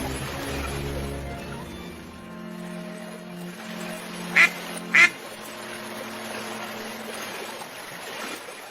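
A cartoon duck, shown as sick, gives two short, sharp quacks in quick succession over a steady, low background hum.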